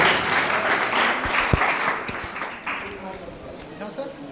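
An audience at a summer camp closing ceremony claps in moderate applause that slowly fades, with people talking over it.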